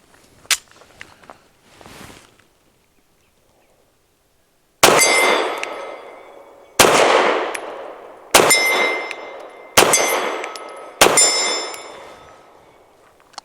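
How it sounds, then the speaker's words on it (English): Five shots from a Ranger Arms RA9 pistol at an outdoor range, each a sharp loud crack followed by a ringing metallic clang from a steel target, spaced a second or two apart after a few quieter handling clicks. "Got 5 rounds in here. Let's give this a quick try just to be fair to you and to be fair to the gun."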